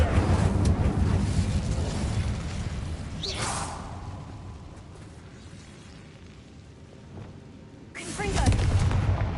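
Incendio fire spell cast in Hogwarts Legacy: a rushing fiery whoosh over a dense game soundscape, swelling, fading mid-clip, then flaring again loudly near the end.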